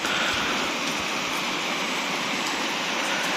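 Heavy rain pouring steadily onto a rice-field hut, a dense unbroken hiss that stays loud and even throughout with no voices.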